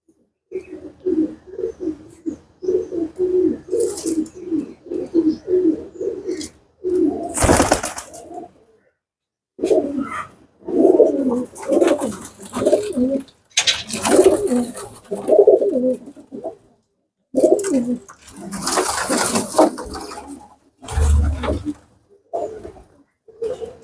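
Pigeons coo nearby in repeated soft, throaty bursts, pausing briefly between phrases, with an occasional louder rustle.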